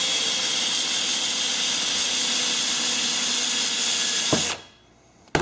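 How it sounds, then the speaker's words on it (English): A steady high-pitched whine of a small power drill running continuously while drilling a small hole in a carburetor freeze plug, then stopping abruptly near the end with a brief clatter. "Drill a little hole in it."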